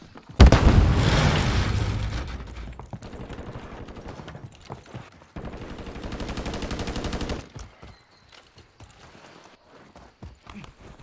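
A grenade goes off in the Warzone video game with a loud, booming blast, followed by a long stretch of dense, rattling automatic gunfire that stops abruptly, then scattered faint shots and clatter.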